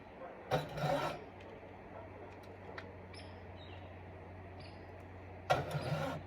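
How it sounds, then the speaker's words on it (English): A hacksaw blade saws straight through a workpiece during handmade Japanese nobekan blade making, two short bursts of rasping strokes near the start and end with a quiet hum between. "You of course using your hacksaw blade."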